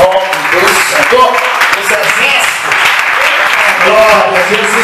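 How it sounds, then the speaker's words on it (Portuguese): A church congregation claps together during worship, loud and steady throughout, with a preacher's voice speaking over the applause. "As palmas que louvam ao nome do Senhor."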